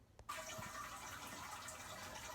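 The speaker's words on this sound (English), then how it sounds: "just plumbed in the pump just to give it a go. It's running through nicely now." A pump pushing water through the spray arm of a home-brewing HERMS setup, a steady loud gush and splash that starts abruptly after a brief quiet moment and runs on continuously.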